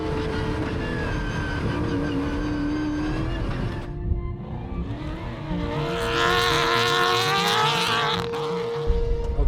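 A Ford Raptor T1+ Dakar rally truck roars loudly close by, engine revving hard as tires scrabble and squeal through a slide, with a brief lift before the engine surges again.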